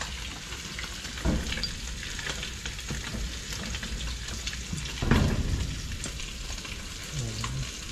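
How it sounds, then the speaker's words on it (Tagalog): Food sizzles steadily as it is sautéed in a pan, with faint stirring scrapes and a couple of louder clatters over a continuous hiss. "gigisa naman tayo"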